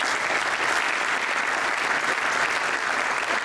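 Sustained audience applause fills the room at a talk on LED and outdoor lighting control, steady dense clapping welcoming a speaker onstage, loud and unbroken throughout with no voices over it.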